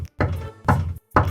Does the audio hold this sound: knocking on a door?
yes